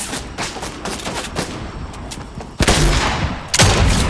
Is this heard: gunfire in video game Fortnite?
yes